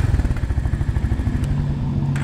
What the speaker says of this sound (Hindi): आइडल पे ही देख सकते हो काफी अच्छे एग्जॉस्ट नोट है यार, हंटर का स्पेशली मिलता है।